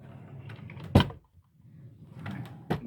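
A makeup drawer slides open once with a sharp knock in the middle of a quiet room, followed later by a second, lighter clunk, with soft rustling between.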